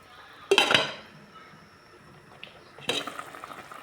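A lid clanks onto a metal pot of fish soup with alugbati leaves, giving a sharp clatter, then a quiet pause and a second rattling clink of metal on metal near the end.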